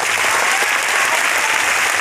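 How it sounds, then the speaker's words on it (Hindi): Loud, dense applause from a large audience in a stadium gathering, a continuous roar of clapping filling the whole moment with no pauses. "आप लोग के लिए एक बार जोरदार ताली हो।"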